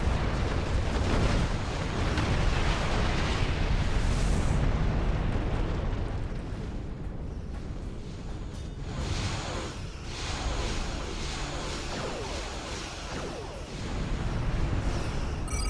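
Starship weapons fire and explosions in the space combat game Star Trek Online, a sustained roar of booming blasts and rumbling bursts, loud and dense, easing slightly midway before swelling again, with no voices over it.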